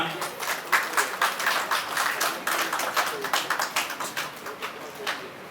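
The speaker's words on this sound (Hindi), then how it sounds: "कविता जी अरोड़ा के लिए जोरदार तालियां" An audience at the Rajasthan Karmveer Award 2024 ceremony breaks into sustained applause, dense rhythmic clapping filling the hall at moderate volume, with an announcer's voice over it.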